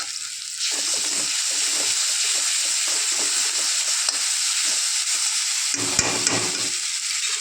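Ginger and garlic frying in hot oil in a pan, a loud steady hiss and sizzle close by, with a spatula stirring and scraping in an irregular rhythm throughout, no talk.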